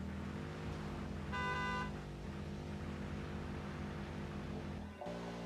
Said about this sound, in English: Not even a friendly honk on the horn.